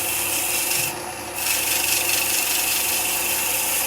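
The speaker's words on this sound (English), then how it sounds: "We're just going to do a quick sanding on this one." Hand sanding of a wooden offset pendant with abrasive paper, starting at 150 grit, producing a steady close scratchy rubbing rasp that runs continuously with a brief softer dip near the start.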